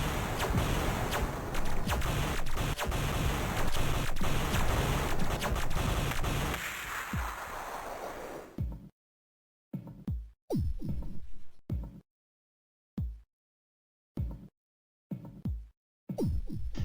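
Atari Jaguar game audio running in the Virtual Jaguar emulator: a dense, loud burst of harsh noisy sound for about eight seconds, then a run of choppy, stuttering fragments broken by dead silences.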